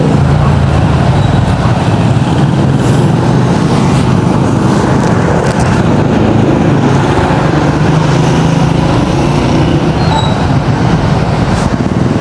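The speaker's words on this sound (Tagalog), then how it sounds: "There's a truck." A truck rumbles past on a road in the Philippines, a loud, steady low roar sustained throughout with broadband road noise and no talking.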